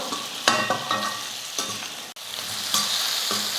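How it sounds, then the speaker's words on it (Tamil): Vegetable pieces sauté in hot oil in a pan, giving a bright, steady close-up sizzle punctuated by several sharp scrapes and knocks of a spatula stirring them, with no voices. "நல்லா ஒரு நிமிஷத்துக்கு அந்த எண்ணெயில் வந்து நல்லா வதக்கிக்கலாம்"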